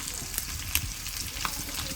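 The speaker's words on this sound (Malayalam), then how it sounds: "അപ്പൊ അതാ കുട്ടികൾക്കുള്ള മീൻ പൊരിക്കണുണ്ട്" Quiet, steady sizzling of river fish frying in a pan, with a few soft scraping clicks over the crackle.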